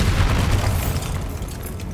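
A Bombarda blast spell in the Hogwarts Legacy video game sets off a loud, deep explosive boom that rumbles and fades over two seconds, heard on its own.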